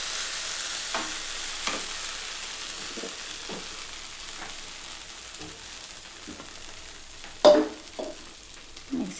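Cashew and poppy seed paste sautéing in a pan for Doi Katla, a soft, low sizzle carrying on throughout, with occasional light taps and scrapes of a spatula and one louder knock near the end.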